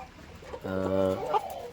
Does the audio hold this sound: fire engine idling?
no